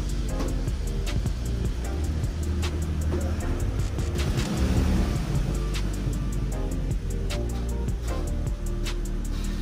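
An Infiniti G37/370Z on Air Lift air suspension drives off for the first time, giving a steady, loud engine and road drone with a low rumble under faint ticking, and no talk.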